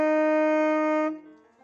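Tenor saxophone sounding a sustained middle F, one steady, clear note held about a second before cutting off, close and alone.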